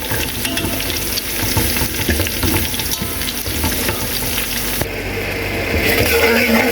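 Whole spices sizzle in hot oil in a home kitchen, a steady close crackling fry with occasional stirring scrapes, and no voices.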